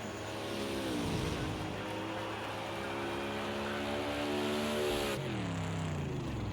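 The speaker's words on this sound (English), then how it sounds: "Ads Webb in this number 73 Mustang, charging hard." A Mustang race car at Long Beach screams past with a loud, high revving V8 note that climbs through the gears, rising and falling as it passes close by, then fades. A second engine follows.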